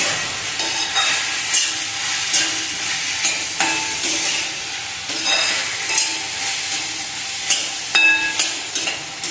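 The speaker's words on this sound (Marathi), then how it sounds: "लालसर होईपर्यंत फ्राय करून घ्यायचा कांदा लवकर फ्राय होण्यासाठी थोडंसं मीठ घालून घ्यायचं" Chopped onion frying in oil with a pinch of salt in a pan for egg bhurji, a steady close sizzle and crackle broken up by repeated stirring scrapes, with no talking.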